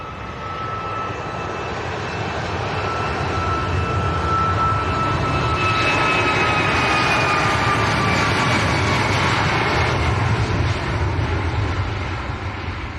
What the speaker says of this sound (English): Ryanair to Parma, just starting the roll.